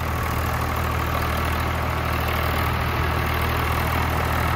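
A Swaraj tractor engine, an older semi-champion model, runs steadily in second gear with a constant, even, low droning rumble and no talk over it.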